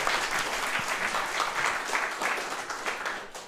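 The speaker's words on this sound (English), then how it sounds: "Let's give him a round of applause." Live audience at a comedy-style politics show in San Francisco breaks into steady, dense applause, a full room clapping together at an even level throughout with no voices over it.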